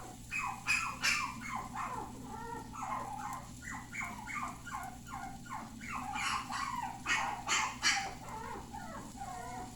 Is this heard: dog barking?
yes